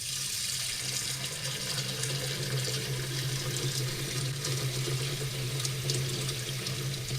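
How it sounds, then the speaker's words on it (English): A running faucet pours steadily, a constant hissing rush of water into a sink that stays even and unbroken throughout, alone with no voices. "Here is a running faucet."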